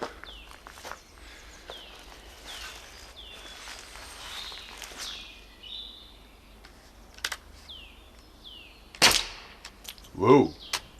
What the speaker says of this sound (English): now they will fit easily and I can simply shoot them.